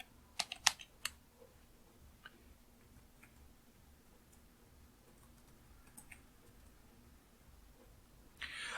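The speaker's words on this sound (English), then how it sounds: "And so you can type in man PACMAN." A computer keyboard is tapped to type a terminal command, a few quick clustered keystrokes early on, then sparse faint clicks over quiet room tone, with another burst of taps at the very end.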